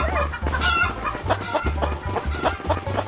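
Chickens clucking repeatedly in a busy, layered chorus in the video game Stickman Party, with steady low tones underneath like game background music.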